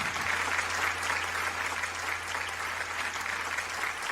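An audience applauds a singer at a Neapolitan music show, an even, continuous patter of clapping over a low steady hum, moderately loud throughout.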